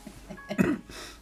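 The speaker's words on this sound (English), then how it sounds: "I've got this cough." One short, close cough or throat-clear bursts out in the middle of a quiet moment, with soft breathy sounds around it.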